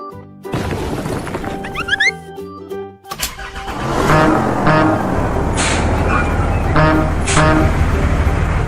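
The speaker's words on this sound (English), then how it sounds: "Garbage truck." A toy garbage truck sound effect plays over bouncy music: a rising toot and a crash, then a rumbling engine with loud hissing bursts and clanks.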